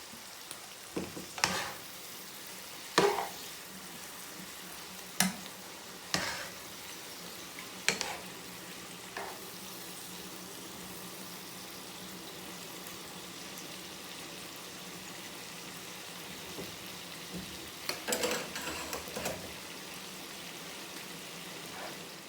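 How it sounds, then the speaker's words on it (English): French green beans cooking in a pot give a quiet, steady simmering hiss, broken by several sharp clinks and knocks spaced through the span, with a louder cluster near the end. "our green beans is French green beans is cooking up"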